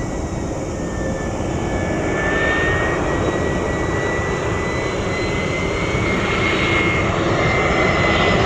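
A Vietjet Air Airbus A321 lands at Noi Bai airport, a loud, steady jet engine roar with a high whine that holds throughout and swells slightly near the end.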